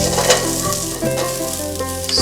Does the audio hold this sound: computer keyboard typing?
no